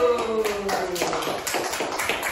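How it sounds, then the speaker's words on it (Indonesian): Primary schoolchildren in a classroom clap their hands together, a short burst of brisk, uneven claps over a lingering voice, fairly close and moderately loud. "Oke, tepuk tangan dulu."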